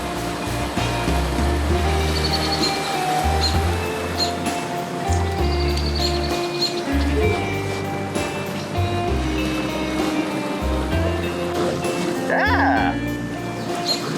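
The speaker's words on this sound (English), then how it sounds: "Sea-Doo coming in." A Sea-Doo personal watercraft approaches a boat ramp on a very windy day, its engine a low, pulsing drone rising and falling under wind, water noise and people talking nearby.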